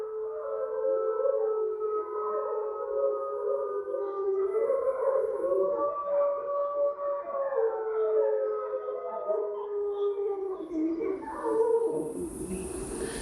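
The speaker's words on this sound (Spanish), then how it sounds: "escuchar con objetividad el aullido del lobo" Wolves howl together in long, rising and falling overlapping tones, sustained and fairly close, before breaking off near the end.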